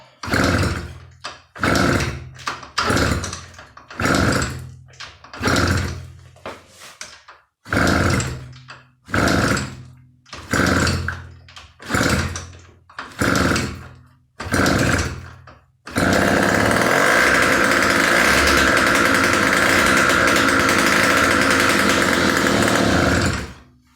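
A Romet Komar moped engine coughs through about a dozen short, loud bursts of attempted starting, then catches and runs with a steady, rough roar for the final several seconds. No one talks.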